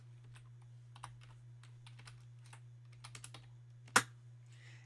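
Quiet, irregular key presses as equations are typed into a calculator, scattered taps in small bursts with one sharper click near the end, over a steady low hum.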